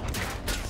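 Gunfire in a Battlefield 1 battle, with a brief burst of dense, close shooting over a rumbling wartime din and no talking.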